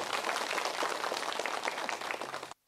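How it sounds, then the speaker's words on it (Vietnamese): Sustained applause from an audience in a temple lecture hall, a dense, even wash of many hands clapping at steady loudness that cuts off abruptly at the end. "cho một tràng pháo tay"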